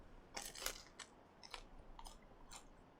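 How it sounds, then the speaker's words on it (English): Quiet, crisp crunching bites of cold, crunchy oven-baked pizza being chewed, about six distinct crunches in an uneven rhythm, close to the ear. "I made it in the oven, and now it's incredibly crunchy."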